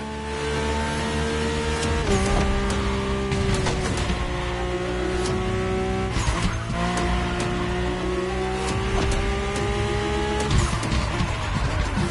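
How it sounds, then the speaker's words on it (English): A Mercedes-AMG One in The Crew Motorfest races along with a loud, sustained high-revving engine whine, pitch climbing and dropping sharply at gear shifts, with tire squeal and road noise underneath, close and continuous. "My ultimate appointment in this country was set with the breathtaking Mercedes AMG 1."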